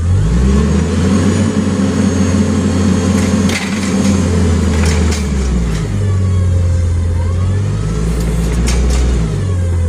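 Forklift engine running steadily during truck unloading, a loud close mid-pitched drone with slight rises in revs and faint clanks over its continuous hum.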